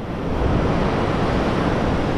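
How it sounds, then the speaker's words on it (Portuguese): Low-tide surf washes gently onto the beach at Praia do Porto in Barreiros, Pernambuco, on a rainy day, a steady, dense roar of water with wind buffeting the microphone and no distinct breaks. "Praia do Porto fica com as ondas bem mais fraquinhas"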